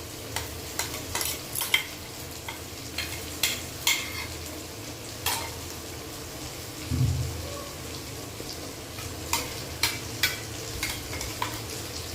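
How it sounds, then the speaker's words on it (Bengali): Spice paste of ground chili, garlic, pepper and coriander frying and being stirred for mutton curry, with a steady low sizzle, repeated sharp scraping clicks of the stirring spoon, and one louder hiss partway through. "এবার এটাকে ভালো করে কষিয়ে নেওয়া হবে মশলাটাকে"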